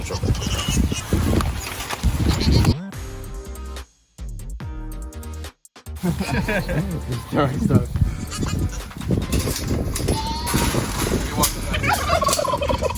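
Turkeys gobble repeatedly in loud, rapid bursts close by, with a person talking in between and other farm animals faintly bleating.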